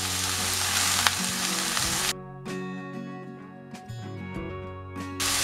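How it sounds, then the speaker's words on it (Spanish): Chopped vegetables, peas and ham sautéing in a pan for revuelto gramajo, with a dense loud sizzle that drops after a couple of seconds into quieter crackling, with occasional bursts of hissing as the food is stirred. "Mientras se va salteando toda la verdurita con las arvejas y el jamón,"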